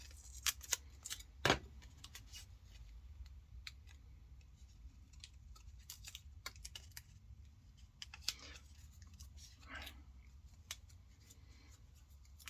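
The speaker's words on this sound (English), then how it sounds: "Just going to tape this off." Tape pulled and wrapped around the end of an enamelled wire coil for an end-fed antenna loading coil: quiet, close sticky rips and crinkles, with one sharp tearing snap near the start followed by soft handling sounds.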